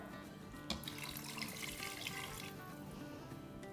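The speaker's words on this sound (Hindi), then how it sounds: "और अब इसमें हम डाल देंगे पानी।" Two cups of water poured into a pot of fried meat for haleem, a steady continuous splashing rush of liquid that runs evenly throughout without any speech.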